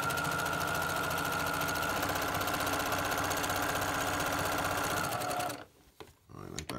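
A Brother PQ1500SL sewing machine stitches quilt blocks at a fast, even hum of rapid needle strokes, then stops abruptly, leaving a few light handling clicks; a person talks over part of it.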